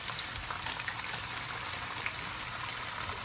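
Potatoes fry in hot grease on a home stove, giving a steady, dense crackling sizzle that runs without pause, close and even, with no talk over it.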